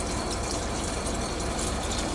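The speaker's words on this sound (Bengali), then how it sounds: "এই তেঁতুলের জলটা আমি পুরোটা দিয়ে দেবো" Tamarind water poured into a simmering fish curry, a continuous dense rushing splash held at a steady level throughout, close and unbroken.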